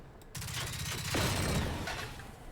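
In the video game Generation Zero, a tank fires its railgun rifle, producing a loud burst of crackling, rapid blasts that swells and then fades, heard alone at moderate distance.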